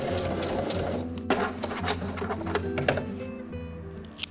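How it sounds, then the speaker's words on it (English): A heavy-duty domestic sewing machine stitching fabric for a camper build, its rapid mechanical whirring and clatter running close and steady, with a few clicks and a brief pause in the stitching. "this sewing machine is called a heavy duty, it's really nothing more than a slightly chunky domestic sewing machine"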